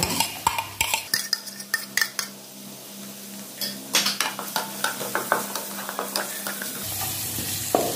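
Spice paste with garlic for a simple Balinese sweet soy pork dish fries in a pan, a low sizzle under frequent sharp clinks and scrapes from a utensil stirring against the metal, close by and without speech.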